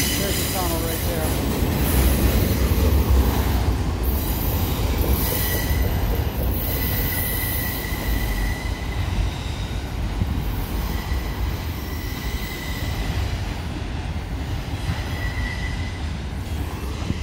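Freight train cars roll past close by near the Hoosac Tunnel, with loud, steady wheel rumble and clatter and high wheel squeals ringing out through the whole passage.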